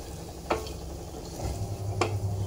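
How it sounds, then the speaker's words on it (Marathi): Spices crackle in hot oil in a kadhai for a tempering, a steady close frying sizzle with two sharp clinks of a utensil against the pan. "आणि इथं मी कढई ठेवलेली आहे, तर आता मी फोडणी देणार आहे"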